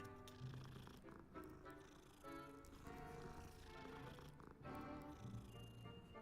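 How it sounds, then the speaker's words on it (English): A kitten purrs softly as it is petted in the Hogwarts Legacy video game, the faint steady purr sitting under game music and ambient tones. "Can I pet the kitten?"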